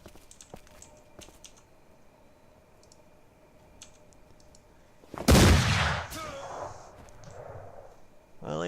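Gunfire in the video game Mordheim: City of the Damned: a few faint clicks, then one loud, sudden burst of shots that fades into a voice speaking.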